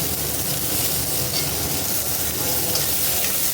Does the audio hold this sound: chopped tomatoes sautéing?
yes